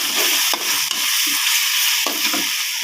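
Shrimp and holy basil being stir-fried, a loud continuous sizzle close up with a few sharp spatula scrapes against the pan, no talking.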